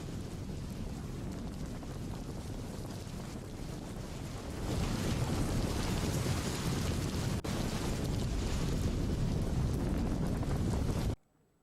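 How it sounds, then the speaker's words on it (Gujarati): Heavy downpour in Petlad, Anand, with flooded streets, a dense, steady hiss of rain that grows louder partway through before cutting off abruptly. "આણંદના પેટલાદ પંથકમાં અનરાધાર વરસાદ"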